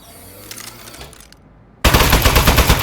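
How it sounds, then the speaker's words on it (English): Aperture Science Turret from the game Aperture Desk Job opens fire: quieter mechanical clicks and whirring, then a sudden loud, sustained rapid burst of automatic gunfire that runs to the end. "Shooting!"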